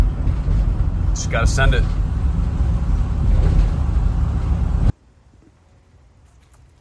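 A 2012 Ford Focus 5-speed fitted with a new engine is cranked for its first startup attempt. A steady, loud low rumble runs under a man's brief speech and stops abruptly about five seconds in.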